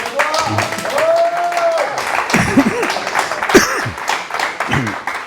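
An audience claps in a hall called Salle Patay, a scattered patter of applause running under a voice that keeps talking throughout.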